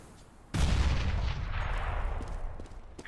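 A grenade explodes in the CS:GO video game, one sudden loud blast that rolls off into a long fading rumble, near and alone.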